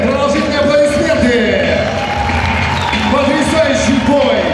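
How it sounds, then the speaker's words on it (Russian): A fight-event crowd applauds and cheers loudly after a round ends, sustained clapping and shouting inside an arena under a loud announcer's voice. "продолжительные аплодисменты"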